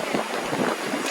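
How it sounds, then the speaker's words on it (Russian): Wind blowing near a waterfall in Yosemite, a steady rushing, buffeting noise of moderate loudness that fills the whole moment without pause. "Здесь такой ветер."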